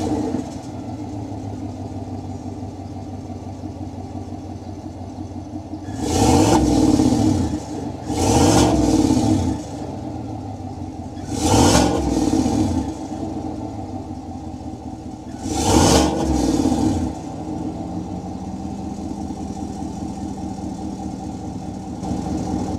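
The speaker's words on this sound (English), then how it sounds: "start it up so you can hear that exhaust note" A 2022 GMC Sierra 1500 Denali pickup with a 5.3 liter V8 idles with a low steady rumble, broken by four separate throttle blips that each rise to a deep exhaust roar and then drop back to idle.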